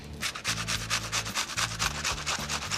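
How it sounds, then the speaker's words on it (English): An onion being grated on a grater, quick rhythmic rasping strokes repeating close up and loud, with a low hum underneath and no talk. "We're not going to slice the onion or the potatoes. We're actually going to grate them."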